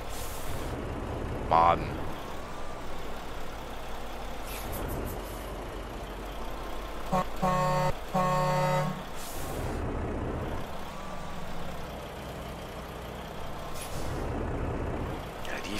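Air brakes hiss as a stream of trucks passes on a highway in American Truck Simulator, with engine drone throughout and a rhythmic burst near the middle; someone talks over the traffic.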